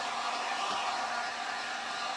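A hair dryer blows a steady, close, full-power whoosh across wet wood to dry it before stenciling, unbroken for the whole moment with no talking.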